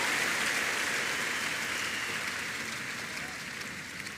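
Congregation at a church service clapping hands, a steady dense wash of applause that fades slightly toward the end.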